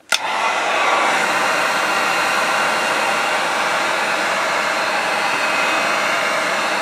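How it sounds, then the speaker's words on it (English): A heat gun blasts steadily at close range, a constant loud airy roar that starts abruptly and holds without pause while softening stencil material. "we're gonna take the heat gun, we'll soften it up"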